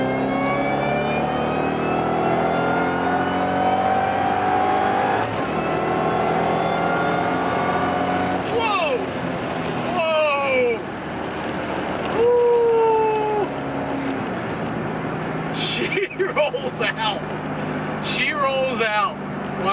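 A supercharged 2008 Ford GT500 fitted with a JLT intake, VMP 2.5 pulley and custom tune holds a steady loud engine drone, then several sharp rising revs and blips near the end, with people talking over it.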